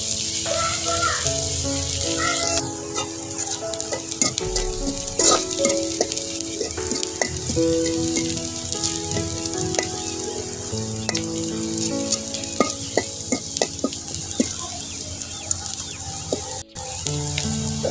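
Onion and garlic sizzle steadily in hot oil in a pan, a loud continuous frying hiss with occasional scrapes and clinks of a stirring utensil.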